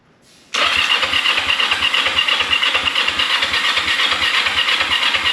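A Kawasaki 454 LTD motorcycle engine with twin carburetors catches abruptly after a moment of quiet and settles into a loud, close, rhythmic idle that pulses steadily for several seconds.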